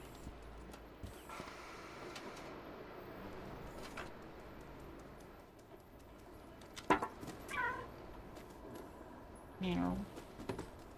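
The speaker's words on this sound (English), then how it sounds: "Meow." A cat meows twice in the video game Stray, short rising and falling cries standing out over a murky, steady game ambience.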